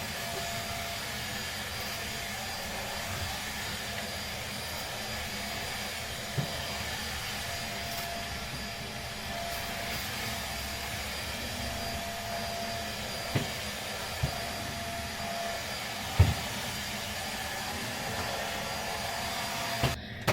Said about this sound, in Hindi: यहाँ में वैक्यूम फेरने की जरूरत है मेरे बेड के साइड पे